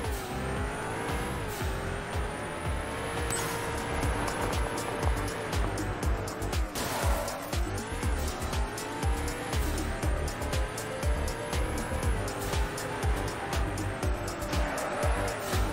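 Video game car engine revving hard with repeated tire squeals and skids, loud and continuous throughout with rising and falling engine pitch.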